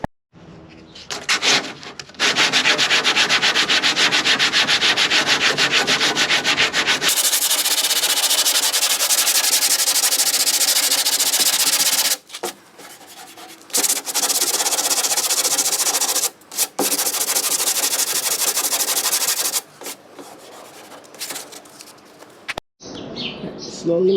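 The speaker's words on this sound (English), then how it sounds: "Got everything sanded down." Bodywork on a Datsun 240Z being sanded by hand, loud sustained raspy rubbing in long back-and-forth stretches broken by short pauses, close up, with faint birds chirping in the background.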